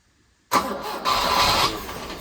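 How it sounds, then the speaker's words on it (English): Volvo 242 engine cranks briefly after silence, then catches and fires, settling into a loud, close, rough running roar with no talk over it. "Go ahead and crank it over."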